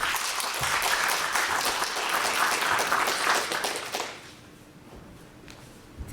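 An audience at a talk on robots and jobs breaks into sustained, dense applause that fills the room for about four seconds, then fades quickly into quiet room tone.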